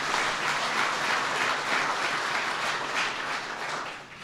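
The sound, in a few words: audience applause for Secretary of Veterans Affairs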